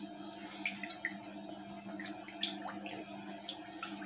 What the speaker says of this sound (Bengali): এবার সাদা তেল ঢেলে দিচ্ছি।